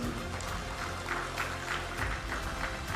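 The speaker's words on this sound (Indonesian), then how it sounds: "Tepuk tangan untuk Pak Gubernur." Audience at an official ceremony in Banten applauding the provincial governor, a steady wash of clapping under a low hum, fairly loud and continuous throughout.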